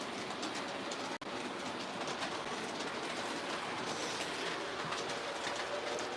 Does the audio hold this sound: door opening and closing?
no